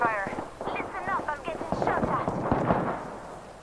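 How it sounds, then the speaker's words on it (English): Gunfire in the Apex Legends video game, with sharp reports scattered through a busy stretch, mostly buried under a person talking throughout. "Getting shot at."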